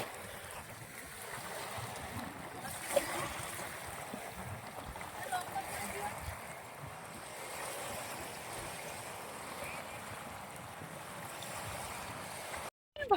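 Sea waves on the shore at Gangasagar wash in as a steady, broad surge with light wind, fairly distant and continuous, while a person talks faintly in the background.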